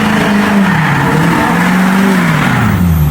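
Lifted truck engine revving hard and steadily while doing donuts, a loud continuous roar with wavering pitch and faint tire noise.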